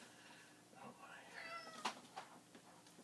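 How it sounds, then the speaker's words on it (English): A cat on a chair close behind someone lets out a short, rising meow, with faint shuffling and a couple of soft knocks around it and no talk. "You are a sneaky cat."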